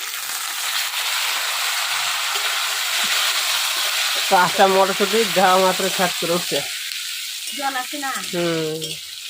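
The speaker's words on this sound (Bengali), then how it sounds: "এর মধ্যে মটরশুঁটিগুলো দিয়ে দেবো মটরশুঁটিও একটু বাজে নেবো" Peas and potatoes frying in a pan give a steady, close sizzle throughout, with someone talking over it in the second half.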